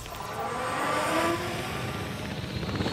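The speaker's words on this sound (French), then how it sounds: "Hop, et il y a l'hélico qui décolle." A helicopter takes off in the video game Jurassic World Evolution 3, a steady whirring rotor and engine hum that swells slightly as it lifts, heard alone.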